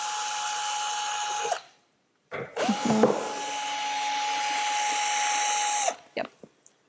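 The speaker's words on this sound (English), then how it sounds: "This is the small flat connector which you have to unscrew from the elements." A power screwdriver whirs as it unscrews screws from the flat metal connector of a modular sofa, running in two steady bursts separated by a short pause and a few clunks, close by.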